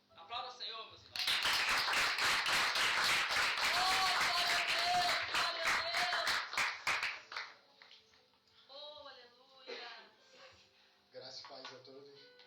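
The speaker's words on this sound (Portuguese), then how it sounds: "Aplauda o Senhor, meus irmãos." A church congregation at a youth worship service bursts into loud clapping and cheering for several seconds, then it fades and someone speaks alone afterward.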